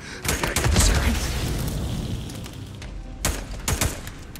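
Bursts of gunfire from the video game Days Gone ring out in a rapid volley, then fade into a quieter stretch before a few more sharp shots near the end.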